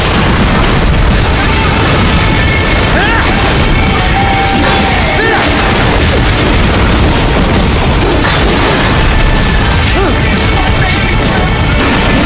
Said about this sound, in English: Catch that missile before it blows.